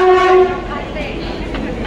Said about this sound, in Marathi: आता इकडे आमची ट्रेन आलेली आहे।